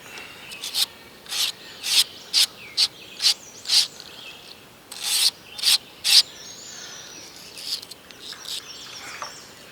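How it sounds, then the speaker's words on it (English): Trimming material on a slender anchovy fly, a run of short scraping strokes in quick irregular succession, close and crisp, then quieter handling noise with no talking. "let me show you how we're going to trim and put the eyes on it."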